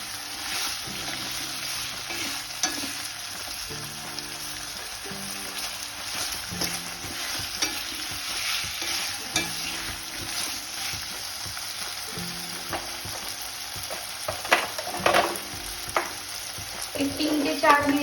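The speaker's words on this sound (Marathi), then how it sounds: "आता आपण बटाटे थोडेसे भाजून घेऊया, म्हणजे परतून घेऊया" Potatoes stir-fried in a pan for a vatana batata (green pea and potato) bhaji, giving a steady close sizzle with repeated scraping and stirring strokes throughout.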